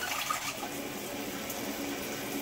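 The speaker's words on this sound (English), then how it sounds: "So we'll go ahead and open up our supply line." Water from a supply line rushes steadily into a bidet toilet seat during installation, a continuous close hiss of filling flow with no talking.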